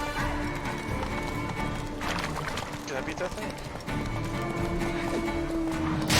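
Video game horse hooves clip-clop steadily at moderate volume under game music and someone talking over it.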